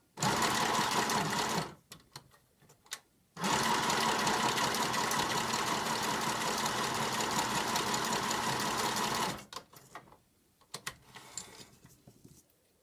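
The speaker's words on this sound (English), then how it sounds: "what we'll do is zigzag across here with the sewing machine" A sewing machine stitches a zigzag in two loud, close bursts, a steady rapid whirring hum each lasting several seconds, separated by quiet pauses and followed by faint handling clicks.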